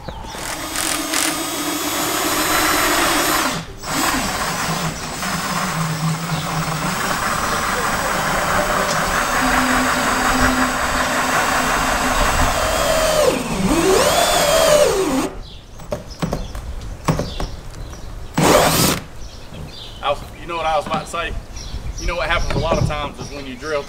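A power drill whirs in long bursts with pitch shifts as it speeds and slows, then stops; short bangs and voices follow.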